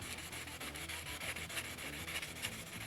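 Rapid, rhythmic rasping strokes of sandpaper on a block, wet sanding glazing putty on car bodywork back and forth, close and fairly quiet.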